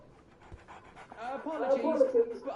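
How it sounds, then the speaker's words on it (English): Dog panting in the Sherlock Holmes Awakened video game, quick rhythmic breaths that grow louder and closer toward the end, with a faint whimpering tone. "So, Barnes has a dog now"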